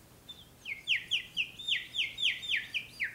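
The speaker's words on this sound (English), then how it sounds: "What's up with these damn birds?" Repeated bright bird chirps in a quick, steady series, about eight sharp descending notes, fairly close against a quiet background.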